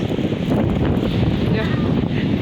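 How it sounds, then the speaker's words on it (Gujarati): Strong wind roars steadily across an open coastal spot near a sunken ship, a dense unbroken rush of buffeting noise that fills the whole stretch. "એટલો પવન છે ને ખેતુની મારે પકડી રાખવો પડે"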